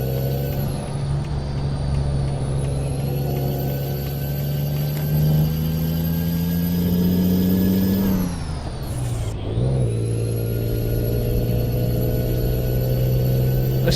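Steady, loud truck engine drone from a trucking video game, running continuously throughout with a brief dip and pitch drop near the middle before settling back to a strong idle.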